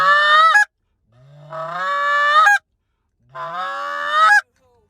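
A handheld goose call blows three long, loud, reedy honks, each breaking upward at its end, separated by short silences and with no talk between them.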